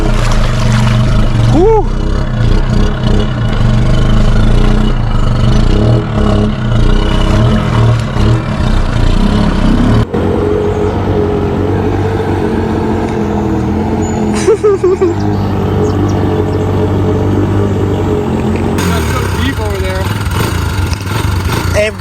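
Quad ATV fitted with a DIY snorkel kit wading through deep water, its engine droning loud and close throughout with splashing and churning, cutting and shifting as it surges; a rider whoops and talks over it.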